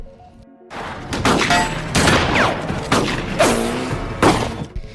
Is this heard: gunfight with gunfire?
yes